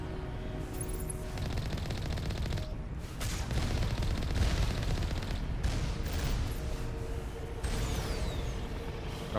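Turrets in Mass Effect Legendary Edition firing continuous rapid volleys, dense mechanical gunfire that swells louder mid-clip and keeps going to the end, with no talk over it.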